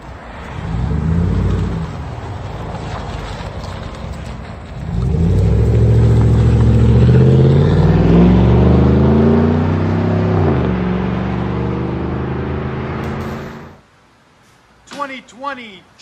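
A 2020 GMC Sierra pickup with a 5.3-liter V8 and a loud aftermarket exhaust rumbles close by, dipping briefly before swelling into a sustained deep rev that fades out, followed by a short gap and a few faint sounds.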